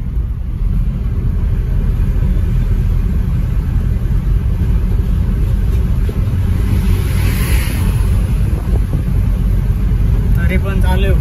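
A vehicle engine rumbles steadily while driving through monsoon rain, a constant low drone with road and rain noise beneath a person talking.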